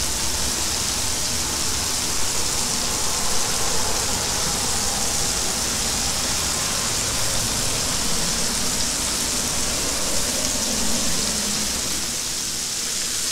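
Chicken fingers frying in oil on a Blackstone griddle, a steady, dense hiss and crackle of sizzling that runs continuously at an even level with no talk.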